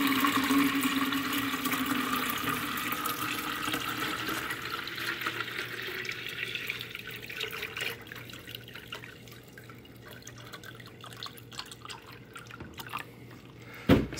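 Alkaline spring water rated at 10 pH pours steadily into a container with a soft, continuous hiss and splash that gradually thins out, ending with a sharp knock.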